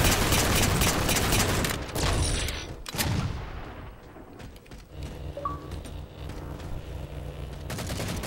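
Gunfire in the video game Halo 4, rapid bursts of shots and booms loud at first, then thinning into sparser distant pops before picking up again.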